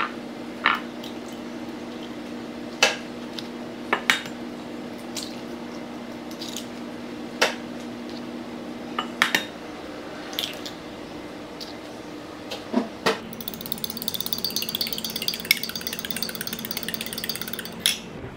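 Three eggs cracked one after another for cooking, heard as a series of sharp, close clicks and taps against a steady low hum, ending with a brief hissing sizzle.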